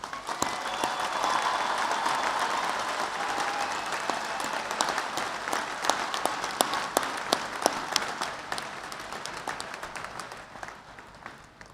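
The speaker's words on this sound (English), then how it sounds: "please join me today in a round of applause for all of the veterans in attendance." Graduation ceremony crowd applauding veterans in attendance: a long, broad wash of clapping from a large hall audience, with sharp individual claps popping out near the microphone as it continues steadily.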